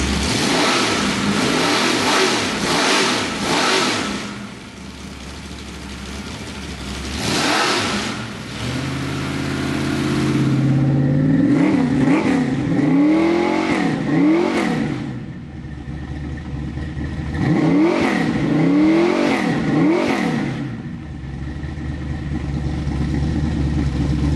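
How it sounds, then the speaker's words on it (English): A custom car engine breathing through a set of Flowmaster 40 series exhausts, revving loudly in several bursts with deep rumbling between, close and without talk. "Try to show you what they sound like going through a set of Flowmaster 40 series."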